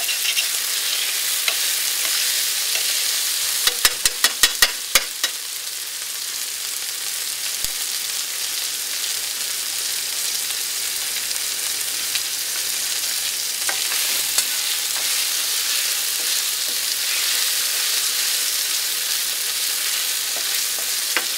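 Tomato sauce fries in oil in a pan with a steady, close sizzle throughout, broken by a brief burst of clatter from stirring early on and a few scattered scrapes and pops.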